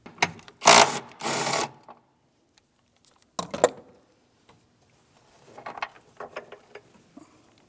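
Ratcheting and clicking from a wrench working a 10mm-head battery hold-down bolt on a 2007-2014 GMC Sierra 2500 HD, in two loud close bursts early on followed by quieter, scattered clicks and metallic taps.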